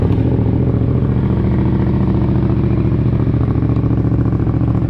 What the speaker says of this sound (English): turn the bike on, let it warm up, let it burn off the engine